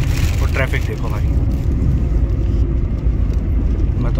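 Inside a cab moving through heavy Delhi city traffic, with a steady loud low engine and road rumble throughout and a person talking over it.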